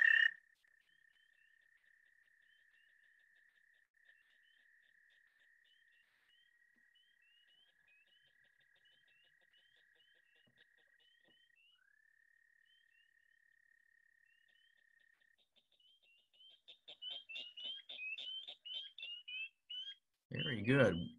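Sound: recorded chorus of several frog and toad species calling

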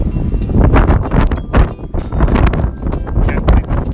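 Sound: wind blowing into microphone

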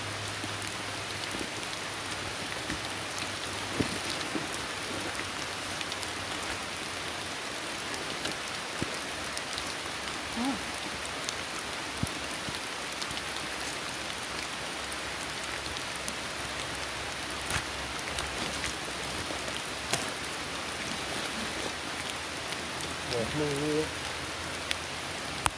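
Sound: rain falling

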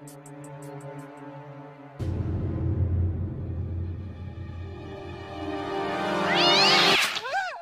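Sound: cat being soaked with water

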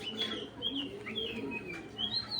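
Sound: imported racing pigeons

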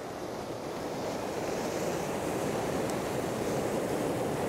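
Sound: sea waves crashing while fishing

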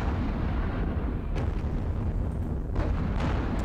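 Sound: light panzers firing in Panzer Battles video game

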